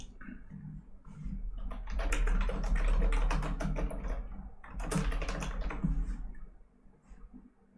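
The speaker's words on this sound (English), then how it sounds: "Let me just type it." Rapid typing on a computer keyboard, a dense close patter of key clicks in two bursts separated by a short pause, with no talk.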